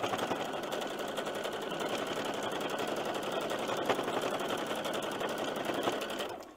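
Sewing machine stitching lace onto a paper-pieced quilt block, a steady rapid mechanical whirr with fast regular needle clatter throughout, close and continuous, stopping at the very end.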